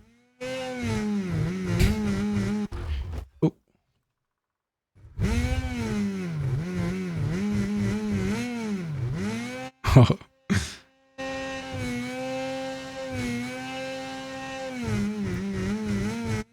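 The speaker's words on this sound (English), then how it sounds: "I'll check out the SKS Liberty 700 sounds. That's one of the retro sleds here." Retro SKS Liberty 700 snowmobile engine in the video game Sledders, a buzzy two-stroke drone that revs up and down repeatedly, briefly cutting out twice before idling and revving again.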